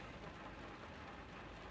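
Steady rain patters onto a car, a dense continuous hiss of drops close by with no talking over it.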